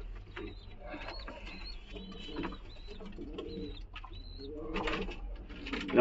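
Giribaz pigeons coo softly and repeatedly in a loft, and a female is among the birds. Thin squeaky calls sound over a low, steady background.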